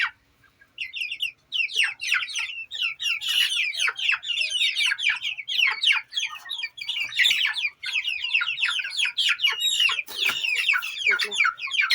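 A flock of chickens clucking and chirping continuously, many overlapping high calls close by, with no talking.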